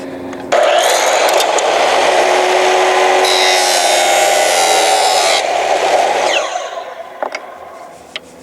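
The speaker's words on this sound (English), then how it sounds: "Obviously with the chop saw you get a pretty straight line here" A chop saw with a metal-cutting blade slices through a SUP paddle shaft in one loud, continuous grinding whine lasting about six seconds, then winds down with a few faint clicks afterward.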